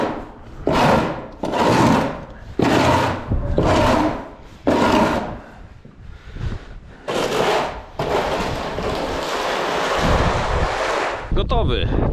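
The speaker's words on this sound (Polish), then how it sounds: "jak tutaj po uszach wieje" Strong wind blowing outdoors at a building site, buffeting the microphone in loud repeated gusts and then a steady roar, with some voice faintly beneath.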